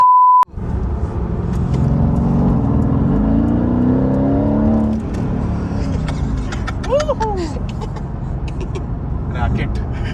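A Shelby GT500 Mustang Eleanor with its exhaust opened: a short beep, then a loud, deep engine rumble that swells and holds. Voices talk over it as the rumble settles toward the end.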